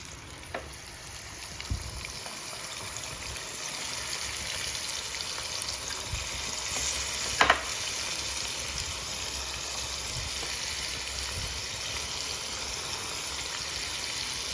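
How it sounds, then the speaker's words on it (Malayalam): Prawns coated in masala paste fry in hot oil, a steady close sizzle and bubbling with a couple of sharp clicks from the pan, heard alone without voices. "അത് അവിടെ കിടന്ന് നല്ലവണ്ണം ഒന്ന് ഫ്രൈ ആയി വരട്ടെ"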